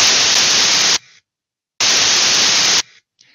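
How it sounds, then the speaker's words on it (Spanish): Generated white noise plays as two loud, flat bursts of hiss about a second each, separated by near silence, with abrupt starts and stops. "Ruido voy a generar ahora, ¿sí? Ruido blanco. White noise."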